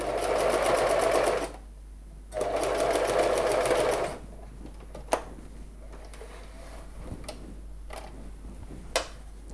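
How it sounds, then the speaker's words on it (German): A sewing machine stitches along a jeans fly zipper tape in two close, loud running bursts, followed by a quieter stretch with a few sharp clicks and handling sounds. "Bis zum Ende des Zipbändchens nähen."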